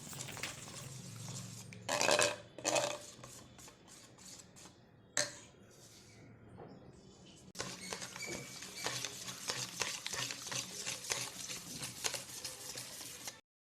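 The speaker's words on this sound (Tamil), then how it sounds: "உப்பு, கரம் மசாலா, மிளகாய்த்தூள், மஞ்சத்தூள் முட்டையுடன் சேர்த்து நன்றாக கலக்கிக் கொள்ளவும்." Eggs are mixed with salt, garam masala, chili powder and turmeric in a bowl, with a few scattered clinks and taps giving way to a quick, steady patter of beating that is faint and close.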